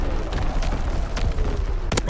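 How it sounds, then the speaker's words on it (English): Enemy artillery shell bursting in Call of Duty WWII, a loud rumbling boom with a sharp crack near the end, set against steady battlefield noise with no talking. "Incoming enemy artillery! Get to cover!"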